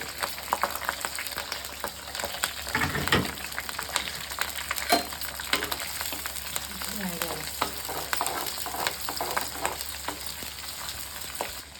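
Green chillies fry in hot oil with a continuous crackling sizzle, dotted with sharp pops and spits and occasional scrapes of stirring, moderately close and steady throughout.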